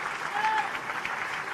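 Concert audience applauding after a performance, a brief moderate burst of steady clapping heard a little distant.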